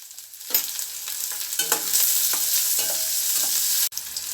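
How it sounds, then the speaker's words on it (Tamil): Onion and green chili sautéing in a pan for cabbage poriyal, a steady frying sizzle broken by repeated scraping stirs of a spatula, close and fairly loud with no talking. "இப்போ நம்ம இதை நல்லா வதக்கி விட்டுருவோம்."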